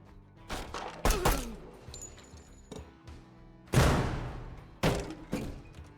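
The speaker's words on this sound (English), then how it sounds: "let's just drop a frag all the way into that room" Sharp thumps and crashes from the tactical game Door Kickers 2 as a frag grenade goes into a room, several loud impacts and a booming blast spaced across the moment, with no voices.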